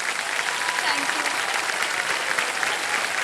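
Studio audience applause on the KBC quiz show set for a returning contestant, a continuous dense clatter of many hands with brief talk mixed in.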